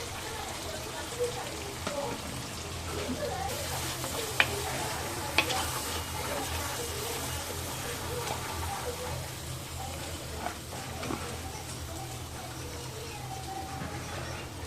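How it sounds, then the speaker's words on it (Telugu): Ground paste added to a pan of sautéing tomatoes for Andhra fish curry, a steady low sizzle with soft stirring scrapes and a couple of sharp taps, faint and continuous. "ఇప్పుడు గ్రైండ్ చేసి పెట్టుకున్న పేస్ట్ కూడా వేసేద్దాం"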